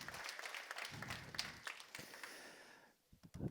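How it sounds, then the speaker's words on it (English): Applause from an audience at a falconry heritage keynote event, a faint, dense spread of clapping that thins out toward the end. "Please give John a big round of applause for all that he's done over the last 2 days."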